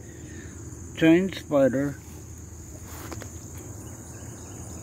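High, steady insect trilling from a cricket carries through the whole stretch as a thin continuous band, with a man's brief speech and a quiet outdoor background under it.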